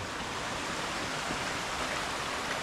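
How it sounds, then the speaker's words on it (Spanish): Two mountain brooks, the Arroyo del Gato and the Raigosu, meet near Laviana in Asturias, their water rushing in a steady, even broadband roar with no talk. "Por aquí creo que confluye el arroyo del Gato y el Raigosu."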